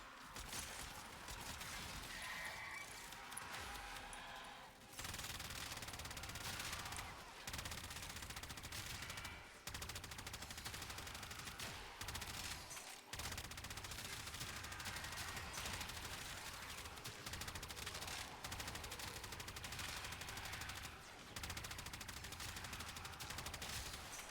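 Phenmor rifle fire in the video game Warframe: sustained rapid automatic bursts, loud and dense, with brief gaps between volleys over about twenty seconds, no voices.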